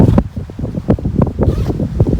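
Wind gusting outdoors on a mushroom-foraging walk near water, a steady low rumble buffeting the microphone with irregular louder surges throughout.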